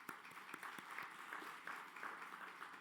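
Attendees at the SAMA annual general meeting in Saskatchewan give a round of applause, a sustained patter of many hands with a few sharper individual claps standing out, moderately loud and free of speech.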